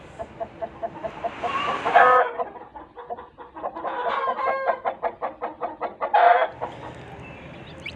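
Broody hens sitting on eggs cluck in a steady run of short, rhythmic notes close by, with a louder squawk or two rising out of the clucking partway through.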